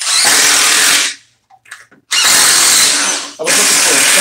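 DeWalt and Milwaukee impact drivers run in a comparison test, giving loud, dense whirring and hammering bursts of about a second each, separated by a short pause with faint background sounds.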